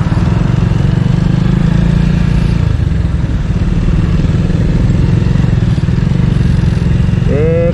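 A motorcycle rides along a congested road on the Gresik–Lamongan border, its engine droning loud and close throughout with wind buffeting. A horn-like tone warbles briefly at the very end.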